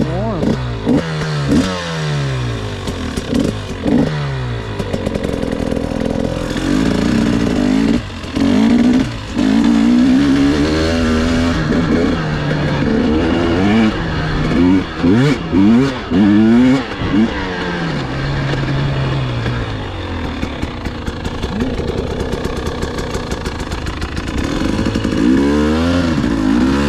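A 2021 KTM 300 XCW TPI two-stroke dirt bike revs repeatedly and close up while riding through winter sand, its engine climbing and falling in sharp bursts with some clatter throughout.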